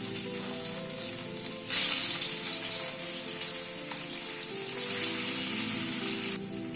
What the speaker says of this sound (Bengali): তেলটা গরম হয়ে এসেছে, প্রথমে আলুটা দিয়ে দিচ্ছি।